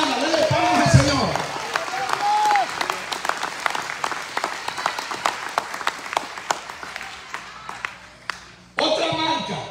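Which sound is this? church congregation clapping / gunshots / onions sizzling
church congregation clapping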